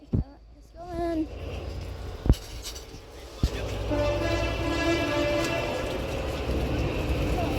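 A British train sounds its horn on a wet day with rain, a short tonal blast early on, followed by the rising rumble and clatter of carriages passing close by, with people talking nearby.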